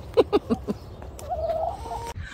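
Several rhythmic clucks from a chicken up close, then a drawn-out, higher squawking call fading out.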